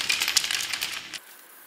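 A steady aerosol hiss sprays for about a second, bright and close, then cuts off abruptly, leaving quiet room tone.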